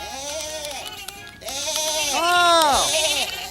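A sheep bleats in a few wavering, nasal calls close by, one after another with a short gap, heard alone.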